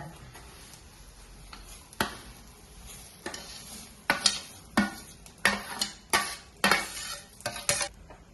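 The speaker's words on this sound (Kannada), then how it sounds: "ಚಂದ ಕುದಿಯೋ ತನಕ ಇಷ್ಟೇ ತಿರ್ಗಿಸ್ತೀನ್ರಿ" A spoon stirs shavige (vermicelli) payasa in a pot as it comes to a boil, giving quiet scrapes and clinks that turn into a run of sharper, regular strokes in the second half, with no voices.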